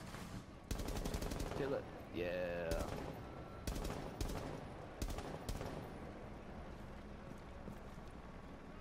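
Gunfire in the video game Rainbow Six Siege: several sharp bursts and single shots cracking out at intervals, with players talking over the action.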